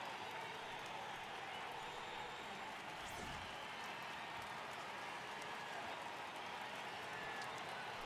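A baseball stadium crowd in MLB The Show 18 swells into steady, broadband cheering and applause for a full count, sustained and even throughout, with no distinct voices standing out.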